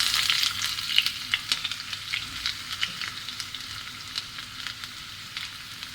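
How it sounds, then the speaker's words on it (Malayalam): Curry leaves and onions hit hot oil for a tempering to finish a duck mappas curry, giving a bright crackling sizzle that starts strong and settles into a softer steady spatter with scattered pops. "ഇനി നമുക്ക് എടുത്തു വച്ചിരിക്കുന്ന കറിവേപ്പില, ഉള്ളിയൊക്കെ അങ്ങോട്ട് ഇട്ട് കൊടുക്കാം."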